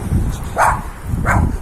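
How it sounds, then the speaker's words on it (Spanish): Dogs bark outdoors near a village: two short, fairly close barks spaced under a second apart, over a low rumbling background. "perritos aquí también."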